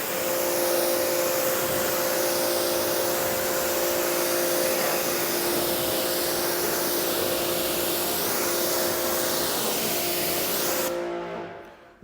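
A water hose rinses a car from top to bottom during a decontamination wash, producing a loud, steady hissing spray close by that runs unbroken for about eleven seconds before cutting off abruptly.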